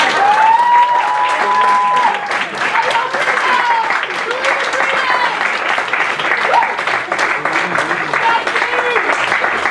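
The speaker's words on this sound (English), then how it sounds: "Now we can have a round of applause." A debate audience gives presidential candidates a loud, steady round of applause, dense clapping with a few whoops lasting throughout, with voices faintly audible beneath.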